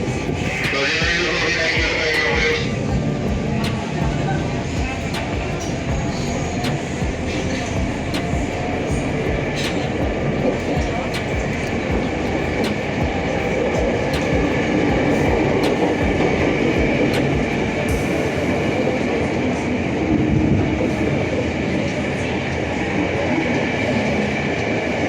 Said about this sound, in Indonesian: Kereta diberangkatkan.